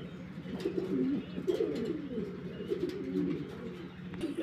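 Several pigeons coo in a loft, their low rolling calls overlapping and continuing steadily at close range with faint background rustle.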